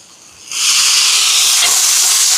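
Tomatoes hit a hot pan of ginger-garlic paste for a chicken dish cooked at a charity meal service, and a loud hissing sizzle erupts suddenly and then holds steady and close, with no speech.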